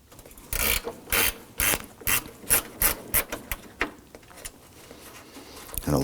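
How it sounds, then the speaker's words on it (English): Ratcheting gear wrench loosening a 10mm bolt on a 2005-2009 Subaru Legacy during AC condenser and receiver drier replacement, a run of quick clicking pawl bursts in an uneven rhythm, close and clear with no talk. "Now there's a 10mm bolt right here. I'm going to use my gear wrench."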